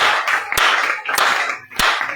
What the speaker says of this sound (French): Est-ce qu'on peut acclamer très fort Jésus?